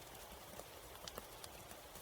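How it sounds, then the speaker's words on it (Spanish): Galloping horse hooves sounding as golden hooves of a white steed in a dramatized fantasy reading, a steady rapid clatter of light hoofbeats running continuously at moderate, even level. "la tierra adormecida temblaba con el repiqueteo de los cascos dorados"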